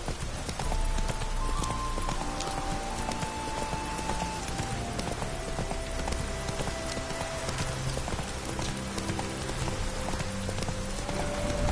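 Steady clip-clop of horse hooves in The Witcher 3: Hearts of Stone plods along in a regular rhythm over soft rain and ambient game music, with no talking.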